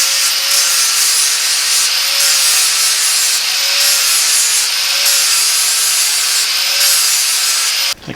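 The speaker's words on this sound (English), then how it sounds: "So I'm just grinding these away, grinding them up with the grinder by hand" A hand grinder working away metal nuts on a stainless frame spreader bar for a Model A hot rod shop truck, a loud steady whine with rhythmic rasping passes that cuts off abruptly at the end.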